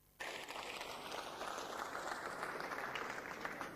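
Thunderous applause from senators filling a parliamentary upper chamber, a dense, steady wash of many hands clapping that starts abruptly and holds at full strength throughout.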